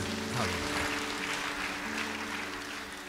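Applause from a church congregation during a sermon, a dense steady patter of many hands clapping together for about three seconds, fairly close and continuous, fading slightly toward the end.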